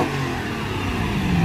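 A BMW E34 M5 fitted with velocity stacks revving, a loud, close engine and induction roar with pitch sweeping up and down over a second and a half, no voices.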